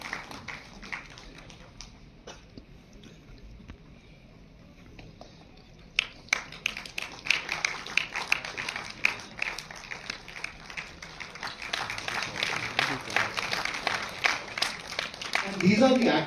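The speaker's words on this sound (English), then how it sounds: "Big round of applause for the stunt, please." Clapping at a film felicitation event starts as scattered taps, then builds from the middle into steadier applause from the audience that grows louder toward the end, with talk in the background early on.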